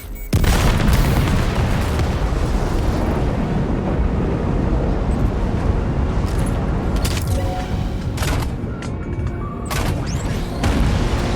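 Heavy weapons fire in Death Stranding 2, a loud, dense run of booming blasts and gunshots that carries on almost without a break, with sharper bursts standing out toward the end.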